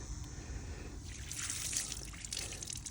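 Water trickles and splashes quietly onto a bike chain, a soft steady rinse with a brief brighter spatter in the middle.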